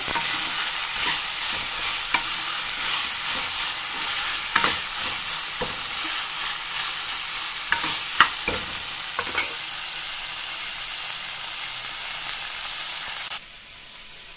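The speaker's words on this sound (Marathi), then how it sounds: "शिमला मिरची एकदम मस्तपैकी फ्राय होते" Capsicum fries in a hot pan with a loud continuous sizzle and intermittent scrapes and taps of a spoon, then drops abruptly to a quieter hiss near the end; no voices.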